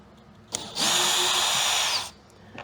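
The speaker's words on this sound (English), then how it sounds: "These screws ain't gonna work no more because we cut it. Let's take the screws out." A power drill spins screws out of a wooden box in one sustained whirring burst of about a second and a half, loud and close, with brief clicks of the trigger before and after.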